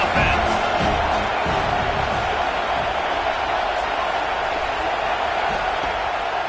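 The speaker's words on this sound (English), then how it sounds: "This crowd trying to make life miserable for this offense." Stadium crowd noise from an NCAA football video game, a dense, steady roar of many voices holding at an even level throughout without distinct cheers or peaks.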